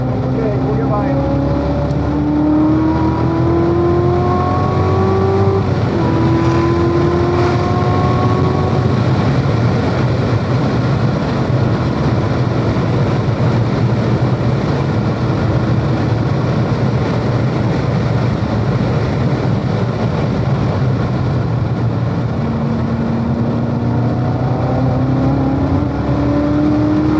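Race car lapping the VIR Grand Course, its engine droning loudly throughout and rising in pitch through the gears with a few shifts, heard from inside the car, with talk over the engine.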